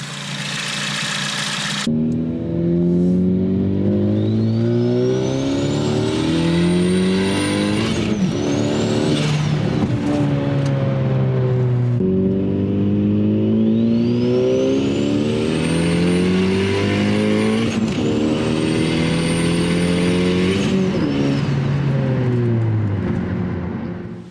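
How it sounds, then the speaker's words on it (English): A turbocharged Ford Focus ST with a big turbo and external wastegate accelerates hard through the gears, loud and close, with a rising turbo whistle and sharp wastegate flutter at each shift. "The external wastegate combined with the new turbo sounds amazing"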